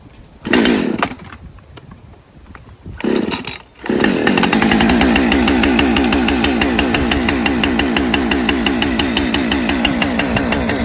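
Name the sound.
chainsaw cold start, engine running and warming up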